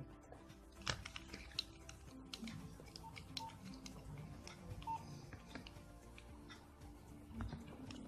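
A Nokia 3310 (2017) mobile phone is powered off, giving a few brief, faint electronic tones over a constant noisy room background with light clicks.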